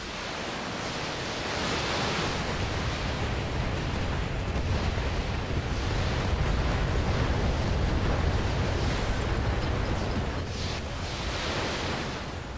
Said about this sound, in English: the last of our Atlas targets comes to a rest under the weight of metric tons of explosions